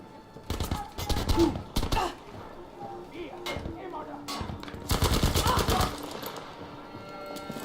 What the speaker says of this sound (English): People are firing some heavy gear.